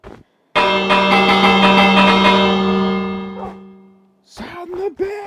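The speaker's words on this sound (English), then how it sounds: "Sound the bells!" Village bell in Minecraft ringing during a pillager raid: one loud, sustained metallic clang that slowly decays over about three seconds, followed by brief game sounds.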